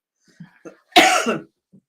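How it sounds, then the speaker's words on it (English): A single harsh, close cough bursts out after a few soft breaths and throat sounds, then trails off into quiet. "Make me cough."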